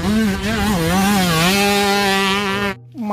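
A toy motocross motorcycle gives off a loud, buzzing, engine-like whine whose pitch wavers up and down, held close for a few seconds before it stops suddenly.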